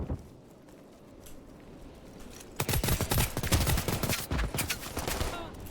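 Rapid bursts of first-person shooter gunfire break out after a quiet stretch, dense and loud with overlapping shots that keep rattling on to the end.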